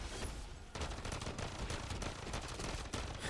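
Rapid automatic gunfire in the video game MW3 Zombies, a dense, continuous burst of shots with crackling impacts, quiet overall but sustained without pause.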